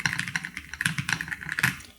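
Quick, uneven keystrokes clatter on a computer keyboard, close and distinct, a short burst of typing with no voices.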